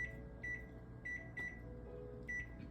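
A kitchen timer being set for 45 minutes gives a series of short, clear electronic beeps in uneven bursts, quiet and close, over a soft background hum while soup simmers on the stove.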